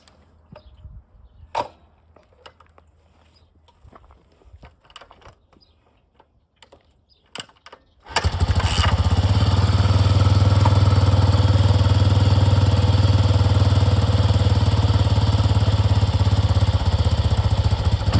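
A restored Yamaha XT500 motorcycle, its carburetor main nozzle just reinstalled, fires up for the first time after some quiet clicking and handling, then settles into a loud, steady, thumping single-cylinder idle close by that runs on without talk.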